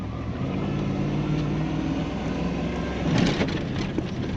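A Ford pickup truck powers through snow and muddy ruts, its engine giving a steady, close, rumbling drone that swells briefly near the end.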